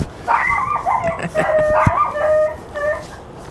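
Several dogs howl together in long, wavering wails mixed with short yips and barks, loud and close, with no talking.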